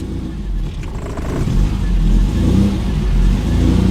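An MGB GT with a 1.8 litre B series engine and stainless steel exhaust idles and revs from a cold start, a steady close engine note swelling briefly in the middle with a faint voice underneath.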